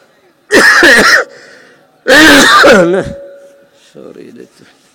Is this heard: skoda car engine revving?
no